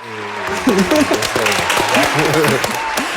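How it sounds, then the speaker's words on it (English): Studio audience applause greets a podcast guest, a broad wash of clapping running under a voice that speaks over much of it. "please give a round of applause to Pearl Davis."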